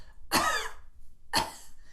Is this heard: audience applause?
no